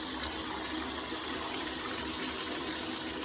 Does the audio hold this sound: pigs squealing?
no